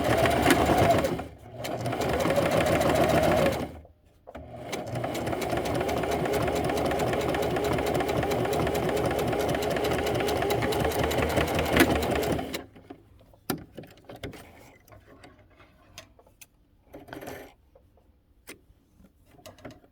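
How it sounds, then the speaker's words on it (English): A sewing machine runs in long, steady bursts while stitching straight across a wristlet wallet, a loud close whirring drone with a brief pause between runs. It stops about two-thirds through, leaving quiet handling clicks and faint rustling. "And then I'm gonna go ahead and stitch straight across."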